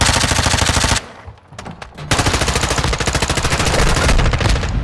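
Rapid automatic gunfire in Call of Duty: Modern Warfare II free-for-all, loud and close, firing in dense bursts with a brief pause before the stream resumes.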